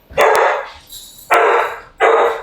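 A dog barks three times in a row from a kitchen where a chicken deep dish pizza is being topped, each bark loud, close and clearly separated by short pauses.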